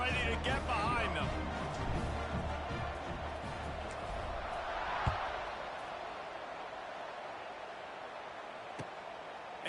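Football stadium crowd at a college playoff game before a kickoff, a broad steady roar filling the space throughout, with a commentator talking over it.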